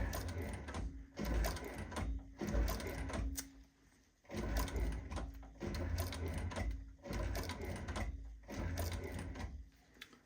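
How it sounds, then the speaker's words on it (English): A heavy-duty High-Tech 4500 16-inch arm saddle stitching machine sews leather in a workshop, running in repeated bursts of rapid mechanical clatter separated by short pauses. "This is a High-Tech 4500 16-inch arm saddle stitching machine, built like a tank, absolutely fantastic."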